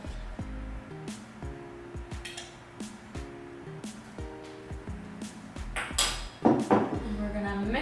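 A spoon clinks and scrapes around a bowl while gluten-free monkey bread ingredients are mixed, a string of close, ringing metallic taps in an irregular rhythm with brief scrapes between them, ending in a louder clatter.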